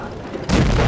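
A tank cannon fires in the World of Tanks Blitz video game, a single sudden loud boom that starts halfway through and fills the rest of the short moment.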